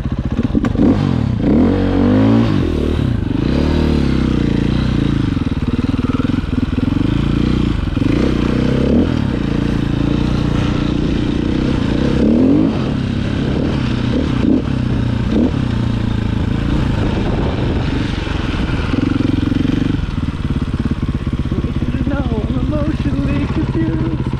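A 450 dirt bike ridden steadily while exploring, its engine loud and close throughout, rising and falling with throttle, with clattering and scraping over rough ground.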